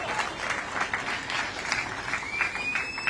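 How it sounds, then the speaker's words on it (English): Audience applause welcoming a speaker at a garden inauguration ceremony in Mumbai, a steady moderate patter of many hands clapping throughout, slightly distant. "Ladies and gentlemen, big round of applause, please."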